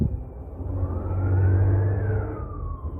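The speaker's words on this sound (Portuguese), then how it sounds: "Vou esperar só a sirene passar um pouco" An emergency siren wails past over low traffic rumble near the Marginal expressway, its pitch sweeping up and then dropping away as it recedes.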